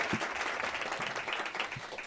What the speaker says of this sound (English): can you guys give a round of applause to everyone who's been up here already